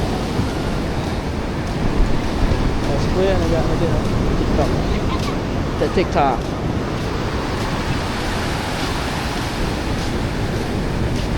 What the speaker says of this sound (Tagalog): Oh, grabe, ang laki ng alon, no? Ang laki ng alon.